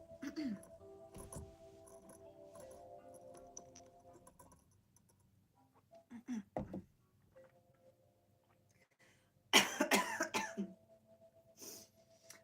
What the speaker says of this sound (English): I drank water because I coughed and then I swallowed the water wrong.